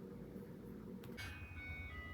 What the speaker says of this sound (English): There's an ice cream truck that just passed.